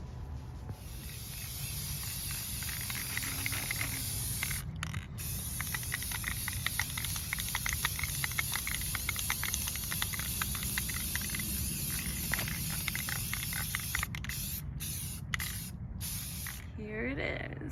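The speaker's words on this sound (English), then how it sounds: "spray it green." A spray can coats a play kitchen piece green in long, steady hissing bursts, broken by brief pauses and a few short sprays near the end, close and fairly loud.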